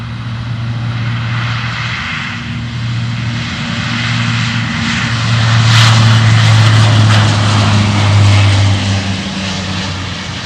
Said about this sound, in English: Got aircraft behind it ready to come in.